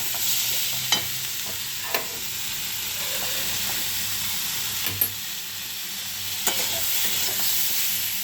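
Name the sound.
spices with salt and turmeric being sautéed in a pan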